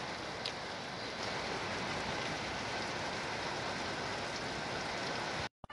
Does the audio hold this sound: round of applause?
no